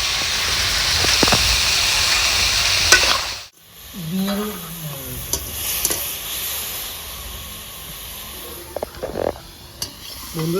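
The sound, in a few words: cauliflower frying in oil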